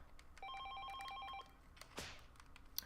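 A telephone rings in the video game Shibuya Scramble, a steady electronic bell trill for about a second, then stops. A sharp burst of noise and a few clicks follow.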